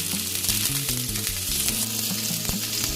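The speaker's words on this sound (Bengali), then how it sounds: "ফুলকপিটা আমি 2 মিনিট ভাজা করে নেব।" Steamed cauliflower florets fry in hot oil, a steady close sizzle with bubbling crackle throughout, no talking.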